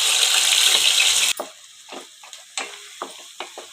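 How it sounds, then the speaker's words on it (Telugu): Onion paste with ginger and garlic paste hitting hot oil alongside green chillies, a loud hiss that cuts off abruptly, followed by quieter scattered scrapes and stirring taps in the pan. "ఉల్లిపాయ పేస్టు పచ్చివాసన పోయేంత వరకు వేపుకోవాలి"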